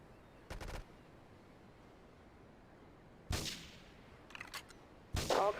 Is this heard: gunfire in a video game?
yes